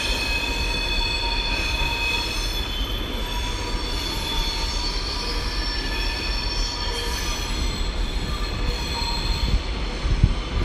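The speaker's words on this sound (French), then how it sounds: "le TGV qui s'en va" A TGV high-speed train pulls out of Paris Gare de l'Est at rush hour. A loud, steady rumble runs throughout, with sustained high wheel squeal and whine over it and a few soft clunks near the end. No voices.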